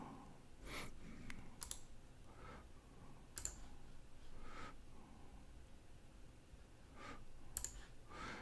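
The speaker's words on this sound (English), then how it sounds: "I'm just right-clicking on the tab label and saying New Tab" Computer mouse clicks while right-clicking tab labels to open new tabs in PlanSwift software, a few faint, sharp, scattered clicks over quiet room tone with soft breathing.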